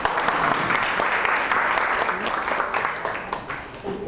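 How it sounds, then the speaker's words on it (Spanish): Applause for volunteers at a Spanish-language talk, a dense burst of clapping from an audience filling the room for about four seconds, starting loud and gradually thinning. "Un aplauso a los voluntarios."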